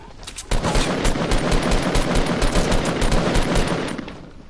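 Fortnite video game gunfire, a loud, rapid burst of automatic shots rattling continuously for several seconds before tapering off, with no talking over it.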